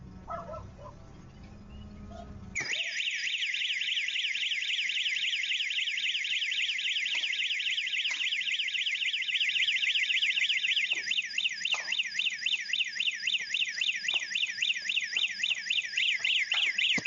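A security alarm going off during a break-in at a South African property: a loud, shrill warbling siren that starts abruptly after a few seconds of quiet, with occasional thuds and a dog barking beneath it.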